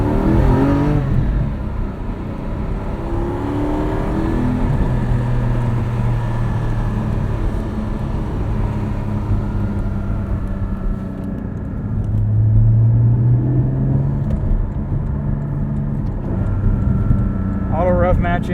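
Engine of a 2020 Porsche 718 Cayman GT4 heard from inside while driving, a steady loud drone with brief rises as the revs are automatically matched on downshifts.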